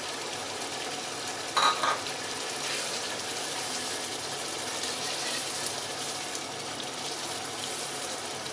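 Mutton frying in a pan with cumin masala powder and nigella seeds, a steady moderate sizzle with a brief stirring clatter near the start and no talking.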